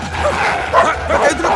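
A dog barks and yips in a street scene from a Hindi action-comedy film, several loud close barks with whimpery edges repeating in quick bursts over a low engine-like rumble.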